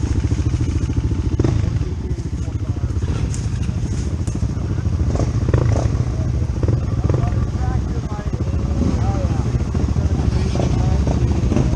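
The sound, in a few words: dirt bikes idling and revving in a group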